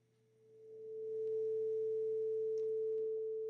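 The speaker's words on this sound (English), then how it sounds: "we're going to control the amplitude of the same sine wave" A single steady pure sine-wave tone swells in from quiet over the first second, then holds at an even level.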